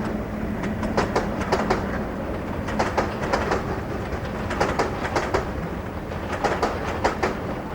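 Locomotive 58032 hauling the Cricklewood bin liner freight train on the Marston Vale line toward a landfill at Stewartby, with rhythmic clickety-clack of wagon wheels over rail joints and a steady rumbling pass.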